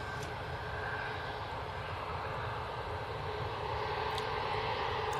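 An arriving airliner at Manchester Airport, its engine roar a steady, fairly distant drone that holds level throughout with no talk over it.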